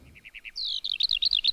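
Sampled bird chirps triggered from a keyboard workstation: a quick series of five short tweets, then a longer whistled note and a rapid warbling trill, clear and close against a quiet background.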